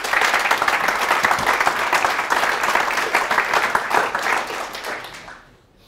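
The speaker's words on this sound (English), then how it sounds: "So a final round of applause is in order." Conference audience at CiviCon London 2015 applauding steadily, a dense wash of many hands clapping that holds for several seconds before tapering off at the end.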